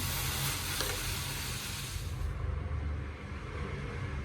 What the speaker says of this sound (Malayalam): ഇത് നന്നായിട്ടൊന്ന് തിളയ്ക്കണം